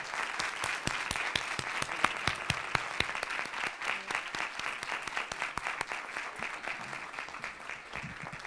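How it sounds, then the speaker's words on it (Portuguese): Sustained applause from a small audience at a design talk in a studio space, steady crisp clapping with distinct individual hand strikes, even in loudness throughout and with no voices over it. "têm direito a uma grande salva de palmas"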